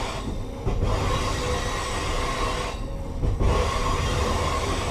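Amtrak Train 151 rolling through the Montview–Kinny Connector near Lynchburg, heard from the rear car: a steady, loud rumble of wheels on rail with broadband noise throughout and a brief surge partway through.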